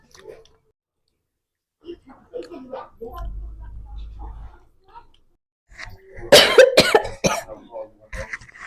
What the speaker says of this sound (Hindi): सॉरी, बीच बीच में मुझे खांसी आती है